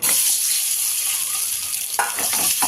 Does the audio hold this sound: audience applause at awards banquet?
no